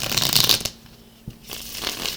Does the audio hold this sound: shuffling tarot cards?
yes